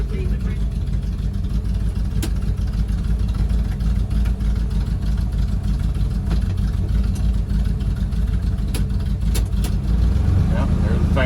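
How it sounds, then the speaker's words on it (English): Interior fan running in a 1979 Dodge Lil Red Express, a steady low blowing drone with engine hum underneath, continuous and close, broken by a few faint clicks. "Yep, there the fan works."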